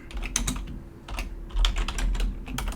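Rapid typing on a computer keyboard, close and clear, with bursts of keystrokes separated by a short pause.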